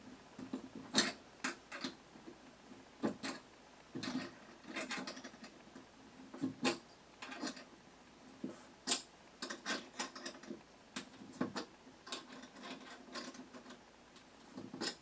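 A ratchet or wrench tightening a half-inch bolt on a TV wall mount, with irregular bursts of sharp clicking and ratcheting strokes separated by brief pauses, close up with no speech.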